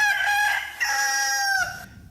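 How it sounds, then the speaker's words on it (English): A rooster crows once in a long, loud, drawn-out cock-a-doodle-doo, close and clear, fading into quiet. "And below us somewhere a rooster crowed."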